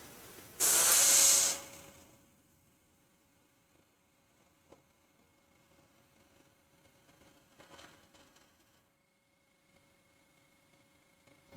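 Airbrush spraying paint onto a Warhammer 40K miniature, one loud close hiss lasting about a second, then faint bench handling and small clicks with a low background hum.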